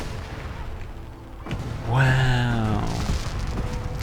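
Fireworks at Nuka World in the Fallout 4 video game: a whistling burst sweeps down over about a second, then booms and crackle carry on loudly, with a voice exclaiming over it.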